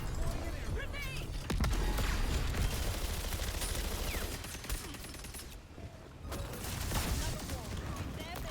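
A grenade blast and heavy gunfire in the shooter game Concord, with dense bursts of shots, crashes and a loud surge near the start, followed by continuous combat noise at steady volume.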